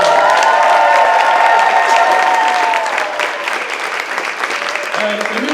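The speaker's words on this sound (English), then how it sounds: "Give them a round of applause." An audience at a 24-hour play festival applauds loudly and steadily, with some cheering mixed into the clapping, which fades slightly toward the end.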